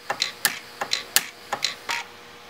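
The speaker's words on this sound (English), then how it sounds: "I'm in rapid fire mode and I'm going to go down the length, welding the two wires together" An Orion pulse arc welder in rapid fire mode fires along palladium-based sterling silver wires, producing a quick series of about eight sharp, close ticking zaps in a fairly even rhythm over a quiet background.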